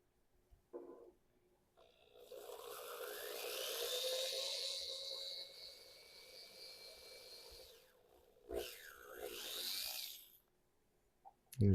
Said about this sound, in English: So we're just going to drill real slow.